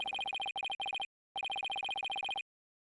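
Electronic phone ringtone from Phoenix Wright: Ace Attorney – Spirit of Justice, a tight repeating burst of bright tones in groups with short gaps, ringing on without being answered, clear and alone.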